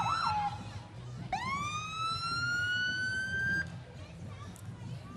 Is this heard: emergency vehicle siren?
yes